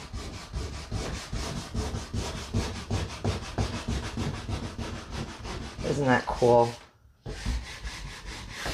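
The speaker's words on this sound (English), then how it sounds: "So you can keep sanding" Hand sanding scrubs over layered paint on wood in quick back-and-forth rhythmic strokes, close and fairly loud. A voice speaks briefly near the end, followed by a short pause before the sanding resumes.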